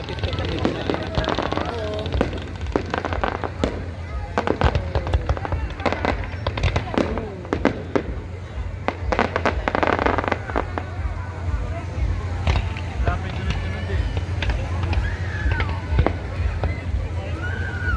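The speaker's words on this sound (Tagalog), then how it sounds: "Fireworks." Eid fireworks display over the Doha Corniche, with repeated sharp bangs and crackling bursts coming in irregular volleys over crowd noise and people talking nearby.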